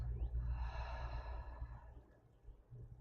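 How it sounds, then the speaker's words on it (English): One long, deep exhale pushed out through the mouth during a guided breathing meditation, a close, breathy rush that peaks early and trails off softly over a few seconds. "Exhale out the mouth."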